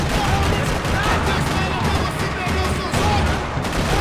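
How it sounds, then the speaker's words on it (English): Dense gunfire from the video game Max Payne 3 in a parking lot shootout, a continuous rattling barrage of rapid shots filling the whole stretch, loud and close, with voices mixed in. "Another parking lot rattling with gunfire."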